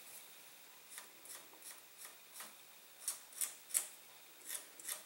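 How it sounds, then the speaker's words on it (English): Short, quiet scraping strokes repeat at an uneven rhythm as burrs are scraped off the glued area of a model plane's tailboom, each stroke a faint, close rasp with the last few slightly stronger. "Remove any burring around there. You may even want to scrape this to get it to kind of a just have rounded corners on it."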